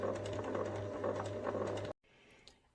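A sewing machine stitches around the paw pad of a fabric memory bear, a steady close mechanical whir running for about two seconds before cutting off abruptly into quiet room tone.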